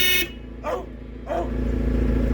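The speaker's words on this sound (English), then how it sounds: "Don't set the dog off." A dog gives two or three short barks in a garage or workshop setting, fairly close, separated by brief pauses with a steady low hum underneath.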